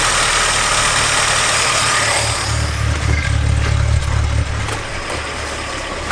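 A 1976 Peugeot 204 barn-find car idles steadily up close, a loud continuous low engine rumble with slight rev fluctuation and mechanical vibration, no voices.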